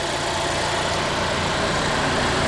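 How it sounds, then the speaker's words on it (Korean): A Volvo XC40 R-Design's 2000cc engine idles steadily with the hood open, a smooth, quiet, even hum heard close with no talking. "2000cc 엔진은 본넷을 열고 들어도 차 엔진 사운드 자체가 굉장히 조용합니다."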